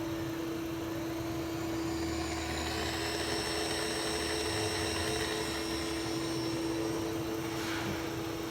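A vertical milling machine runs on automatic feed, a steady, even motor hum and whine holding constant with no pauses and no voices.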